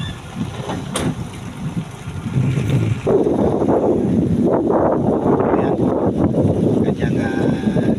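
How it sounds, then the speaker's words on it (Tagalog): Stormy weather at sea brings gusting wind buffeting the microphone over choppy, rough water, rising to a louder, sustained rush after the first few seconds, with indistinct voices mixed in. "Ayan, maalon pa rin, masama pa rin ang panahon."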